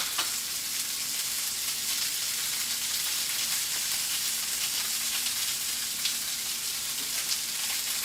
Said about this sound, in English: I'm not sure if you can hear it or not, but it's sizzling.